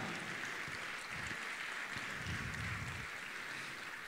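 Applause from an audience at a comedy show in Córdoba, heard as a steady wash of clapping running the whole time, distant and fairly faint, with no talk over it.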